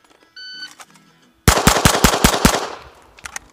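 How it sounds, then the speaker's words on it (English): Six rapid pistol shots from a Sig P320 on a shooting range, loud and close in a tight, evenly spaced string, preceded by a brief electronic timer beep and followed by faint echoes. "6 shots, not 7 this time."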